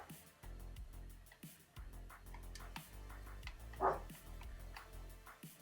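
Dogs bark repeatedly in a home, a run of short yaps and woofs with a louder bark near the end, set against steady background sound.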